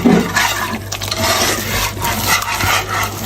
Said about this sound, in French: On met notre lait qu'on a fait bouillir.